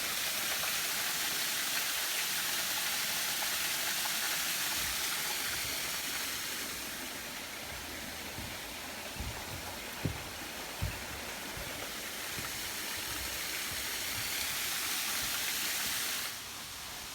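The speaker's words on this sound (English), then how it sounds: "Nice little waterfall." A small waterfall in a state park pours continuously, a broad, steady rush of falling water with a few faint knocks partway through.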